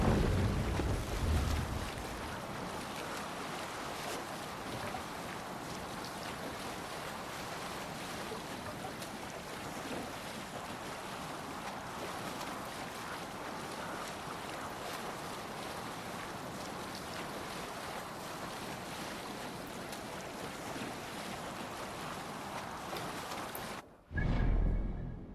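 A sailing ship at sea in the Assassin's Creed Valhalla video game: steady rushing wind and water wash with a continuous broadband roar, cutting off abruptly near the end, with no talk.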